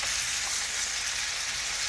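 Chicken pieces fry in a pan over high heat, giving a steady, dense sizzle with a bright crackling hiss that carries on evenly throughout, with no voices.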